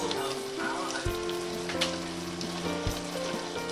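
Three cans of Whole Foods canned tomatoes with basil going into a hot pan, giving a steady close sizzle and crackle with a few soft clunks, no talking.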